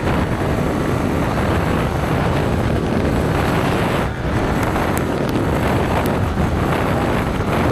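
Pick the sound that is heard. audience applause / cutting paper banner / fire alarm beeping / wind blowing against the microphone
wind blowing against the microphone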